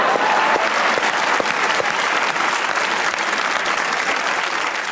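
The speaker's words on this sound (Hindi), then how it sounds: "एक बार तालियां होनी चाहिए" A studio audience at a Pakistani TV comedy talk show claps loudly and continuously, a dense, sustained wave of applause with no talk over it.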